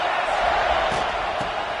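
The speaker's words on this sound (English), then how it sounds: "This crowd ready to make its presence known." A stadium crowd at a Clemson vs South Carolina college football game roars steadily as a broad, continuous wash of noise, with a few brief thuds and shouts rising out of it.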